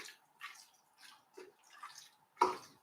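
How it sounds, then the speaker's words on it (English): Crispy artichoke pasta with arugula stirred in a pan, wet squelching and clicking bursts coming in a loose uneven rhythm, close up, with a louder slap at the end. "Are we loving the pasta sounds?"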